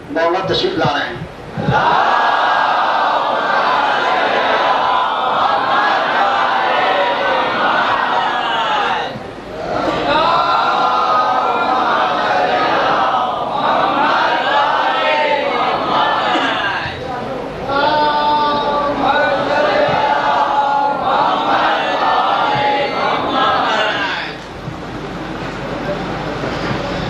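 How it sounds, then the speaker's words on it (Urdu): A large crowd at a religious Jashn gathering for Abbas at Haidari Imambargah chants salawat in loud, rolling collective waves, with brief dips between rounds of voices. "اور نعرے سلوات پڑھیے."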